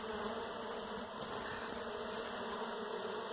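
Honeybees streaming out of a hive entrance past a protector module against Asian hornets, a dense continuous buzzing drone of many wings, close and steady throughout with no talk.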